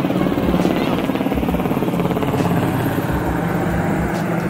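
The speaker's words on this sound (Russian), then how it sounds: "А над нами летает вертолет." Helicopter flying overhead at a snow sculpture exhibition in Anchorage, Alaska, its rotor chop loud and steady throughout with no speech.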